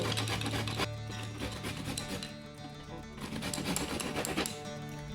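A piece of dried coconut rubbed against a hand grater gives a rough, rhythmic rasping scrape, stroke after stroke, steady and close.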